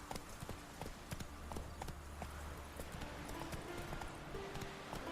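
Hooves drum steadily as Roach, the horse from The Witcher 3 video game, gallops, a continuous clip-clop rhythm over a dense bed of game sound and music.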